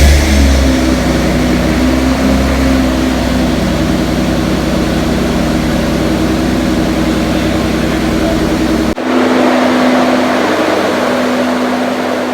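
A Toyota Land Cruiser 80 Series engine cranks and runs steadily up close with a loud, even idle drone, then the pitch and texture shift sharply near the end as the engine settles.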